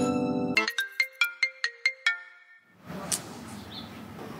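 A mobile phone ringtone plays for an incoming call, a quick melodic run of eight or so bright beeping notes that stops abruptly, followed by quiet hiss and a faint rustle.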